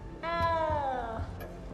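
A cat meows once inside a Harry Potter video game, a long drawn-out harmonic cry sitting over soft background game ambience.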